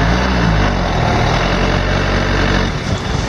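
A vehicle engine running in second gear on a village trip, a loud, steady close-up drone with a low rumble throughout.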